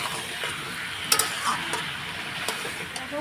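Curry masala sautés and sizzles in a pan for a potato and bori curry, a moderate, steady frying hiss broken by occasional clinks and scrapes of a spoon stirring against the pan.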